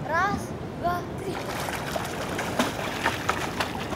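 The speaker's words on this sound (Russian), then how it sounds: "Я буду нырять вот тут." A person dives into a seawater swimming pool at a Bangkok hotel, making a broad, close splash of churning water that follows brief children's voices and then settles into a continuing wash.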